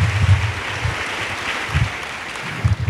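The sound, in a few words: congregation clapping for Jesus Christ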